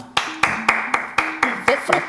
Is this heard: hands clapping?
yes